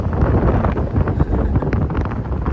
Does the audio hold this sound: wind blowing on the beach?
yes